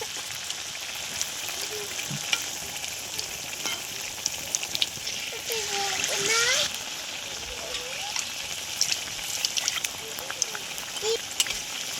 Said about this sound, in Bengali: এবারে একে একে ভেজে নেব